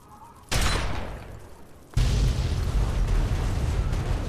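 Explosions in the game Fallout 3, two sudden blasts, the first followed by a fading rumble and the second by a sustained loud roar, close and heavy.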